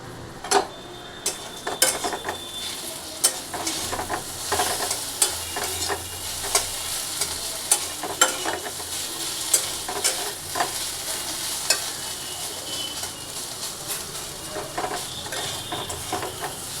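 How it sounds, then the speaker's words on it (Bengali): Thick-cut potato pieces with salt and turmeric fry in oil in a pan for breakfast, a steady close sizzle under repeated scraping and clinking of a spatula stirring them, with no talk. "তো এই দেখুন, আলুটা ভাজা হচ্ছে, আলুটা দিয়ে দিয়েছি।"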